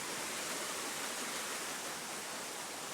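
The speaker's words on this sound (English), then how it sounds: "waterfall is just right on that corner" A nearby waterfall gives a steady, broad, loud rushing roar with no breaks, and no one talks over it.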